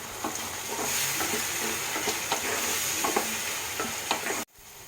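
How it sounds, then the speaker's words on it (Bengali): Spice paste of ground masala with green chillies, salt and sugar sautés in oil, a steady sizzle broken by repeated scraping strokes of a spoon against the pan, close and alone, cutting off abruptly near the end. "এবারে আমি মশলাটা ভালো করে কষব"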